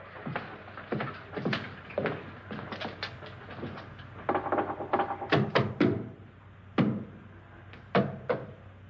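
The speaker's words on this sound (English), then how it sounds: "Now, I'm going to knock on the other wall." Knocking on a wall in a haunted-house scene from the 1959 film House on Haunted Hill: clusters of sharp wooden knocks in uneven bursts, fairly close, some louder and heavier than others, with no speech.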